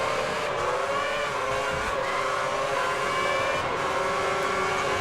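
Formula 1 race cars scream past in an F1 racing game on a 2010 Japan circuit, high whining engine tones sustained and loud, with faint pitch shifts as cars pass.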